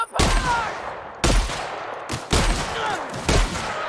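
Four loud, close shotgun blasts from The Outer Worlds video game ring out about a second apart, each followed by a short, echoing tail.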